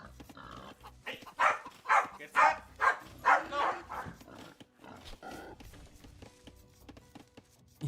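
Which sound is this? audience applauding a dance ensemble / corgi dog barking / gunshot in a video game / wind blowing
corgi dog barking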